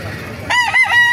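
A gamefowl rooster of the Kelso or lemon sweater breed lets out one loud, close crow that starts midway and holds to the end over quiet farmyard background.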